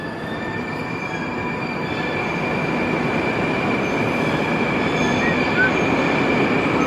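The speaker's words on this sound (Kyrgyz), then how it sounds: "Біздің поезд бұл жақтан келеді." A Moscow metro train on the Sokolniki line pulls away from the platform, its steady loud rumble of wheels and motors building slightly over several seconds with faint high squeals above, with no voices.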